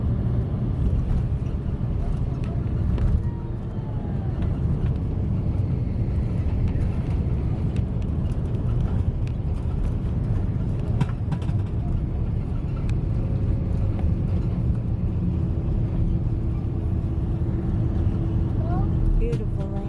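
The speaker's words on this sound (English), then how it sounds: "Beautiful landing." Passenger airplane landing, heard from inside the cabin as a steady loud engine and rolling rumble with occasional clatter and faint voices underneath.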